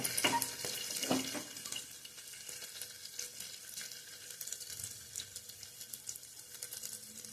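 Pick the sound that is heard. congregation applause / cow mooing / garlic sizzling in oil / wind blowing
garlic sizzling in oil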